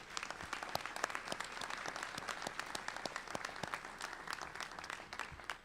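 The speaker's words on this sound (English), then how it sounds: "please join me in thanking them with applause for their support" Scattered, distinct handclaps from a graduate commencement ceremony audience, fairly quiet and distant, with individual claps standing out against a soft wash of applause.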